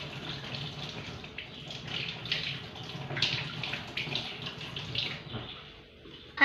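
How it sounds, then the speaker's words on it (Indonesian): Tap water runs steadily over hands being rinsed during a handwashing demonstration, a continuous close splashing gush that holds for several seconds before cutting off. "Lalu bilas dengan air mengalir."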